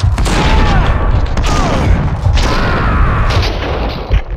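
Sustained, loud gunfire from the shooter game Max Payne 2 fills the scene as a dense, continuous barrage with heavy booms, while shouting voices break through intermittently.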